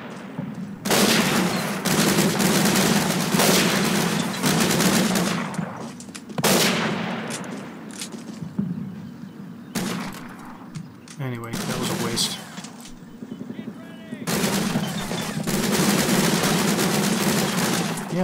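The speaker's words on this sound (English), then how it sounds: "if he wants to waste a couple of bullets shooting at them" Gunfire in the Combat Mission street-fighting scenario rattles almost continuously, with dense bursts and volleys of shots and brief lulls, loud throughout.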